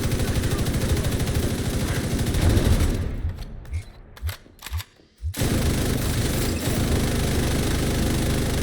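A GR9 light machine gun fires in The Division 2 video game in loud, sustained automatic bursts that break into scattered single shots midway before resuming steady fire, with no voices.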